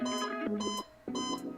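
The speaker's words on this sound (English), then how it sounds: "That's my alarm." Alarm clock sounds in loud, close, repeated electronic beeping bursts, with a short gap between them.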